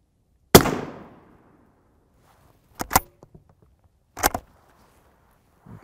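A rifle firing an M855 round at a boron carbide armor plate, one sharp loud crack that decays quickly, followed later by a couple of paired sharp bangs with silence between.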